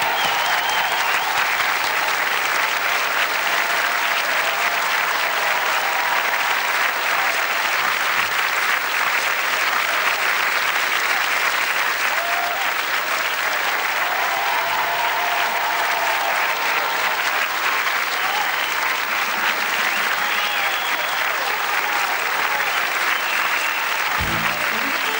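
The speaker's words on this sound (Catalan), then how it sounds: "Un aplaudiment molt gran per Regina Los Santos." Loud, sustained applause fills a carnival crowd in Vinaròs, Spain, a steady wash of clapping for the whole stretch, with a few thumps near the end.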